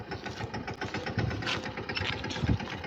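A Mahindra tractor idles nearby on a farm, its engine chugging in a steady, even pulsing rhythm at moderate loudness with no other sounds.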